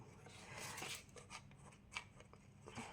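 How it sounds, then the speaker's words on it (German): Scissors snipping rounded corners off paper journal cards, a run of close, crisp cuts and rustles with slight rubbing of paper between them. "Darum mache ich einfach alles mit der Schere."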